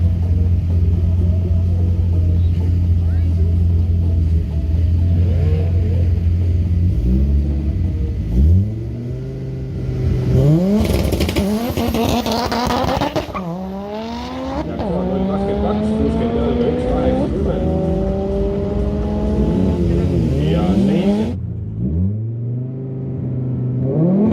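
An Audi engine revs hard again and again on a highway, rising and falling with sharp crackling pops from the exhaust between surges, close and loud.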